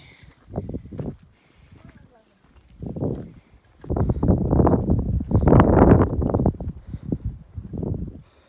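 Strong gusting wind roars across the microphone near the misty summit of Mount Latimojong, coming in uneven surges that swell and fade over several seconds.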